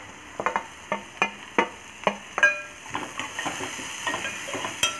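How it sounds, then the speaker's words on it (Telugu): Onions frying in a pan with salt, turmeric and chili powder give a soft sizzle under a series of distinct spatula clacks and scrapes, regular at first and then quicker and lighter. "ఉల్లిపాయ మరీ పెద్ద ఎక్కువ వేగక్కర్లేదు అనమాట"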